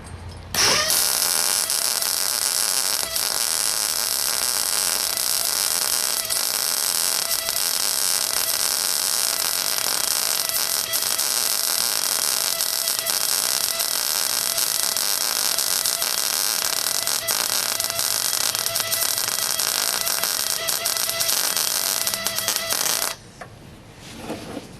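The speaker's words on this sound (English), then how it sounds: "Yeah, that welded a really nice bead on there." A cheap 110/220-volt MIG140 GS MIG welder runs a bead on metal, producing a loud, steady, crackling buzz up close. It continues without pause for over twenty seconds, then cuts off abruptly.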